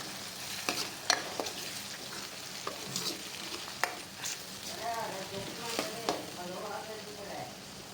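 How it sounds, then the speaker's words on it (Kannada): Chicken sukka fries in a pan with a soft sizzle under repeated spoon scrapes and taps, some faint voice-like sounds drifting in the background. "ಈಗ ಫ್ರೈ ಆಗ್ತಾ ಇದೆ"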